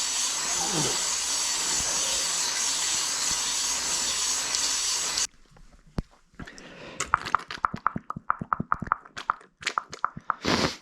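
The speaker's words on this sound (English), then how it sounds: "We're just gonna basically deglaze the cylinder." A Cummins engine cylinder is deglazed with a hone, giving a steady loud grinding hiss for about five seconds, then a series of sharp separate scraping strokes.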